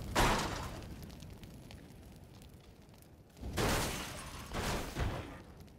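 Explosions in the video game PUBG, set off with C4 and gas cans, come as heavy booming blasts with a long rumbling decay, one at the start and two more near the end, loud and close with no talking.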